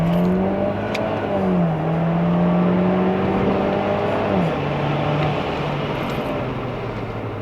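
A Cadillac ATS 2.0T pulling hard to 60 mph, its engine droning loud and steady inside the cabin, pitch climbing through each gear then dropping at two shifts before settling as the car eases off.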